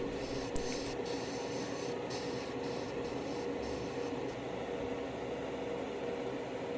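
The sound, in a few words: spraying blue paint on HG Gouf Custom model kit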